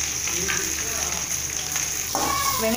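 Chopped onions and curry leaves dropped into hot oil with popped mustard seeds, sizzling steadily and close, with the frying growing a little louder and busier toward the end.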